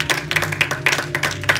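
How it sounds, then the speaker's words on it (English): A church congregation claps along in a lively, steady rhythm, close and fairly loud, with bright sharp hand strikes repeating several times a second over a low musical hum. "Put your hands together, y'all."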